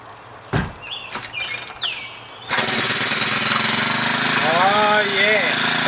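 A small yard engine on a $22 replacement carburetor with an old spark plug and worn muffler starts after a few quiet knocks and runs steadily and loudly, with birds chirping in the background.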